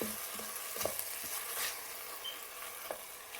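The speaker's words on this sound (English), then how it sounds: "Give it a good mix and let it sauté for a minute, ensuring the lentils are well coated with the aromatic spices." Lentils coated in spices sauté in a pan with a soft, continuous frying hiss and a few light stirring scrapes, fairly faint and close, with no speech.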